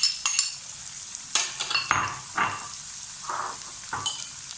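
Minced meat keema fries with tomatoes and green chillies in a pan for stuffed karela, a bright sizzling hiss broken by several scraping stirs and spoon clinks, close and fairly loud, with no talking.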